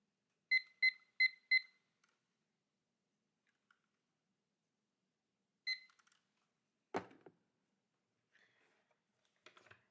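Four quick high electronic beeps from a timer alarm in an otherwise quiet room, then a single beep later and a few faint scattered sounds.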